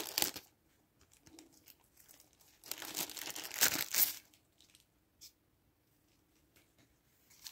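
A satellite receiver remote control being unwrapped, with crinkling plastic and paper in short close bursts and one louder rustle in the middle, then quiet.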